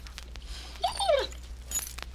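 A pet dog named Cléo gives a soft whimpering whine near a quiet room, a brief rising and falling cry in the middle of the moment.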